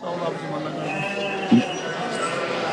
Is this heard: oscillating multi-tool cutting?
no